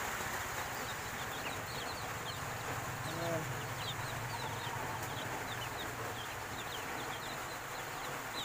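Newly hatched chicks from the first incubator hatch peep steadily, with many thin, high chirps repeating throughout against a constant low farm hum.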